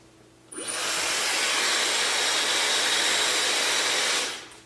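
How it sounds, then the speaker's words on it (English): A Dyson hairdryer starts suddenly and runs as a steady, loud broadband whoosh for several seconds, then winds down at the end, with no voices. "I'll plug it in so you can hear how loud it is. It still makes noise, but it's not loud like a hairdryer is loud"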